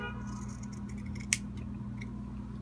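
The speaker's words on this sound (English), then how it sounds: "I forgot to trim up the neckline as well." Scissors trimming fabric along the neckline of a tank top, one quick sharp snip over a steady low room hum, close and otherwise quiet.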